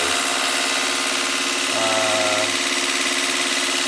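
A 450G dozer's diesel engine, its speed set about 200 RPM off, runs loud and close with a constant rumbling drone and a slight shift in tone partway through.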